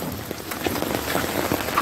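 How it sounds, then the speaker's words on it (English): Steady rain falls outdoors, pattering close on surfaces with scattered distinct drips over a continuous hiss, alone without talk. "See, my rain gonna come down back in shower."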